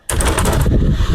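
A tube axial exhaust fan running at 2800 rpm starts abruptly with a loud, rough whooshing roar and rapid pulsing flutter that holds steady afterward.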